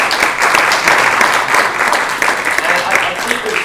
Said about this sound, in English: just a round of applause again for this incredible panel